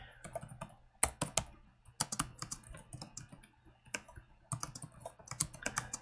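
Steady computer keyboard typing, a continuous run of sharp, close key clicks in irregular bursts with brief pauses between words, quiet room and no voices.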